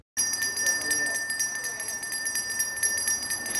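Salvation Army bell ringing outdoors, a steady bright metallic ringing that persists throughout at moderate loudness.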